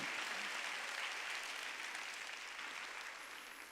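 A church congregation clapping hands during a Wednesday worship service, a steady wash of applause heard faintly at a distance, tapering slightly toward the end.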